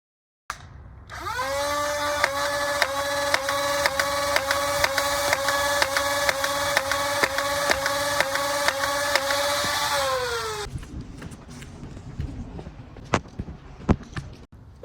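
Nerf Pro Stryfe X flywheel blaster firing darts on a range, flywheels spinning up to a loud whine with a rapid rhythmic burst of shots, then winding down into scattered clicks and thuds.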